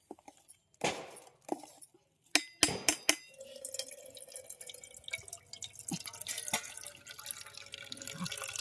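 Water poured into a vegetable batter for fried snacks, heard as dripping and splashing with clinks of glass or a vessel, a few sharp knocks early on, then a steady trickle at close range.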